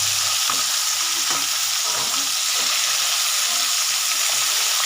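Koi fish pieces fry in hot oil with a steady, loud sizzle while a spatula stirs them in regular scraping strokes. No one speaks.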